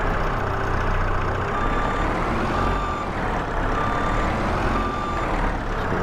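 Truck backing up in Farming Simulator 22: a steady game engine drone under a regular series of evenly spaced electronic reversing beeps that repeat about once a second.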